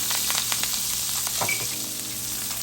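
Garlic, green onion and parsley sautéing in oil left from cooking shrimp and salmon, a steady close sizzle with occasional stirring scrapes, no talking.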